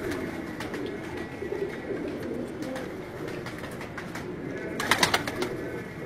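Kabuli pigeons coo softly and repeatedly in a loft, low rolling calls layered over one another, with a few sharper bird notes and a brief louder flutter near the end.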